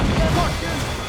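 Ship cannons firing during a naval battle in Assassin's Creed Freedom Cry, a brief heavy booming blast with crashing, rumbling decay.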